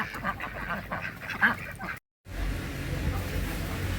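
Pekin duck breeders on a farm quack in a busy, repeated chorus, with a brief dropout midway and a quieter, noisier stretch of farmyard ambience afterward.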